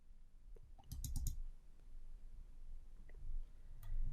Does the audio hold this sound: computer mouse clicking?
yes